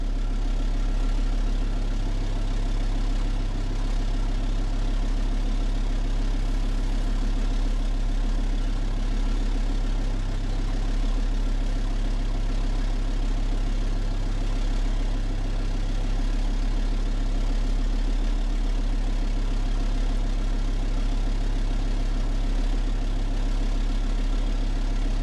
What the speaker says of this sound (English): If you drive on wood gas, the sound of the exhaust is music to ear anyway.